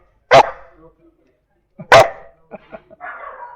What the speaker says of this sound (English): So we have an agreement, me and the dog. Every time say dog, Bark.